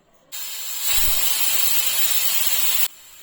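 A pressure cooker holding peas and cashews for a cashew masala lets off a loud, sustained hiss of escaping steam. The hiss starts abruptly, grows stronger after a moment and cuts off sharply about two and a half seconds later.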